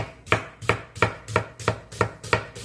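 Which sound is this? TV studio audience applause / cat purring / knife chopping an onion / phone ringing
knife chopping an onion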